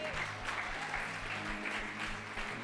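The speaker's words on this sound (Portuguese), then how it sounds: "E aplauda o Senhor." A church congregation claps steadily at a low level, with rhythmic clapping alongside music and voices beneath it.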